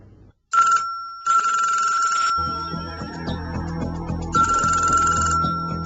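An electronic telephone bell rings in several loud bursts, with background music playing underneath.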